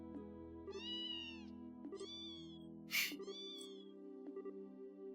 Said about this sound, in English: This must be our cat.